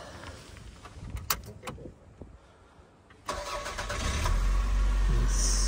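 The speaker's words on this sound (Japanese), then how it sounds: "エンジンかけてみましょうか。" A 1990 Toyota Camry SV21 Lumiere is started up: a few clicks and short cranking, then the engine catches and settles into a steady idle close by.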